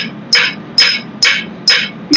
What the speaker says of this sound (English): Using the flat side of the hammer on this one.